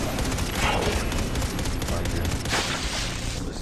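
Loud, continuous gunfire and explosive bursts in the Xbox 360 game Far Cry 3 Blood Dragon, a thick volley with a voice talking faintly underneath.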